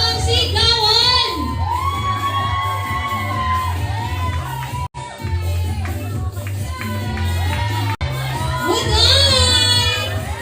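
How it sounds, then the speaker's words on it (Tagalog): A concert crowd claps and shouts continuously at close range, with loud whoops and high cheers rising over steady applause, briefly cutting out twice. "Palakpakan na may kasamang sigawan."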